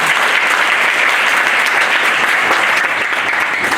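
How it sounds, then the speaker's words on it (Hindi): Loud, dense applause from an audience at a nursing college event, welcoming guests with continuous vigorous clapping close by. "अपने बच्चों से मिला, जोरदार तालियों से स्वागत करते हैं"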